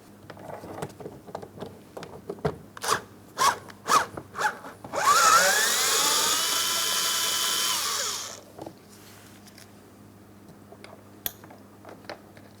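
10mm mounting bolts being removed from a 2004-2008 Pontiac Grand Prix side mirror: a run of sharp ratchet-like clicks, then about three seconds of steady, close power-driver whirring, followed by a few faint ticks in a quiet room.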